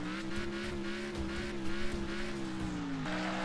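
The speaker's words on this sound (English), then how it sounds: "Yep, I'm driving a motorbike." A video game motorbike engine drones steadily with a slight pitch drop near the end, running continuously at moderate volume.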